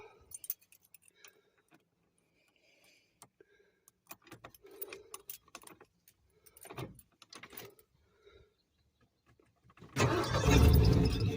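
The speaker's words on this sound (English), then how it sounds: "Just cranking it over and not even hitting the gas or nothing" An engine fitted with a carburetor cranks over and catches near the end, left in neutral with no throttle; before that come scattered clicks, clunks and handling noises, with a loud, steady running roar over the last second or so.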